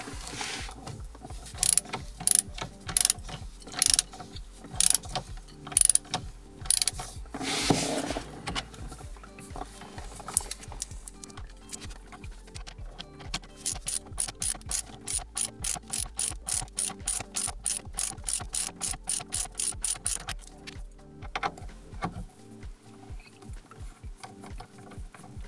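A ratchet wrench with a 12-point socket clicks as it loosens the steering wheel bolt on a Porsche 997 911, starting with scattered short bursts, then a long fast run of even ratchet clicks, close up with no talk.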